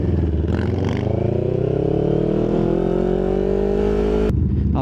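A loud Harley-Davidson motorcycle engine rumbles close by and rises in pitch through a long rev, then drops off sharply near the end, heard alone without talk.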